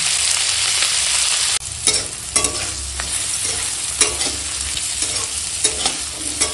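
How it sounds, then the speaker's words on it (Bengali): Long beans and potatoes frying with salt and turmeric make a loud, dense sizzle, with bursts of stirring and scraping and a brief dip in the hiss early on. "বরবটি আলুটা দেখো ঠিক এরকম ভাজা হয়েছে।"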